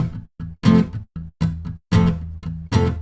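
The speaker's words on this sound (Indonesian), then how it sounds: "Nah, kalau di verse itu kita pakai staccato." Guitar power chords strummed in a staccato pattern: a series of short, sharp, evenly spaced chord hits, each cut off quickly, played close and moderately loud with no talking.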